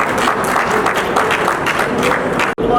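Seminar audience at a thalassemia awareness event in Rohtak claps to welcome a speaker to the stage, a loud, steady burst of many hands that cuts off abruptly near the end.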